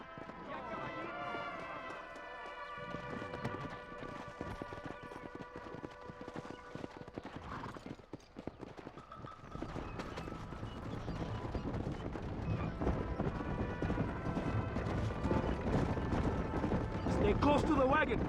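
Horse hooves clip-clop at a steady running gallop while riding in the Red Dead Redemption video game, close and continuous, with gunfire and voices heard over them.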